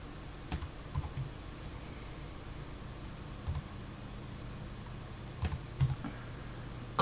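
Typing on a computer keyboard, sparse close keystrokes clicking in small irregular clusters over quiet room tone, no voices.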